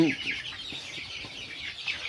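Several Sonali chickens, about 25 days old, cluck and murmur close by in a short, busy burst, with soft overlapping calls.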